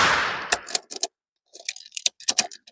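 A Howa MVP rifle with a jamming ejector: one sharp report fading away, then a string of close metallic clacks, rattles and clinks from the bolt being worked and brass catching.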